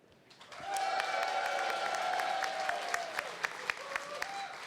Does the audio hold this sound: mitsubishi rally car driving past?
no